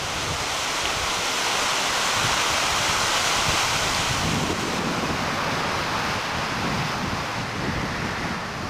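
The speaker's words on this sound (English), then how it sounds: "Got a nice little waterfall," A man-made waterfall tumbles down off the mountain into a forested glen, a steady, loud, broadband rush of falling water that stays constant throughout, mixed with some wind noise and no voices.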